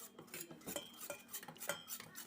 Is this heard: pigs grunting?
no